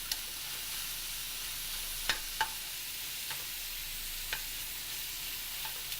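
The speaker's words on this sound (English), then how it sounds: "we want to cook the beef and caramelize those onions down just a little bit more" Beef, mushrooms and onions sizzle softly in a pan, a quiet, even hiss broken by a few sharp scrapes or taps of a utensil, with no one speaking.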